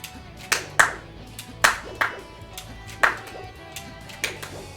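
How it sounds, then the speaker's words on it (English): Hands clap out a rhythm in sharp, uneven beats, about nine claps over a few seconds with small gaps between them, close and fairly loud against a quiet room. "Why don't you clap me to rhythm?"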